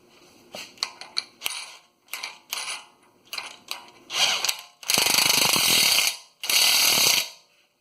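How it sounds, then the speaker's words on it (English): An impact wrench torques the inner CV axle nut on a 2015 Chrysler Town & Country, starting with a string of short ratcheting taps and building into two long, loud, sustained hammering bursts close by. "we'll just torque it with the impact in"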